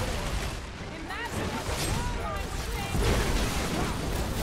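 Rapid gunfire and blasts in the Guardians of the Galaxy video game, a dense continuous barrage of shots and impacts with excited voices talking over the combat throughout.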